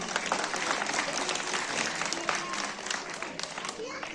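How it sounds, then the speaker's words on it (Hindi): An audience at a school annual day and result declaration applauds, with dense, continuous clapping that fills the hall for several seconds. "जोरदार तालियां"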